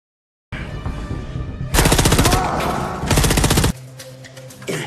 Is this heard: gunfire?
yes